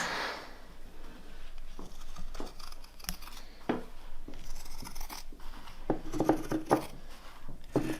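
Scissors snip through material while cutting out pieces for a custom shift boot cover, giving a close, quiet series of irregular crisp clicks and rustles with short pauses between cuts.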